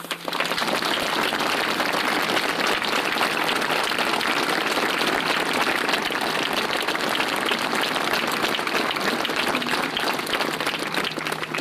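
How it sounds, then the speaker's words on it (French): A large crowd at a rally following the November 13, 2015 attacks applauds the gendarmes. The clapping is dense and loud, keeping a steady roar for the whole stretch without letting up. "Je vous demande d'abord de les applaudir, ils font un métier très difficile."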